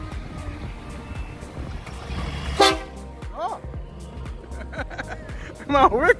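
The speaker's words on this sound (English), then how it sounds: "Monster truck, this one." A monster truck sounds its horn on a newly opened highway section at Bull Bay, several loud toots that come in short bursts near the end, mixed with traffic noise and voices of people talking nearby.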